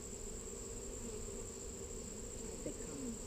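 Honey bees buzz steadily at an open hive during an inspection, a continuous close hum lasting throughout with a faint voice briefly underneath.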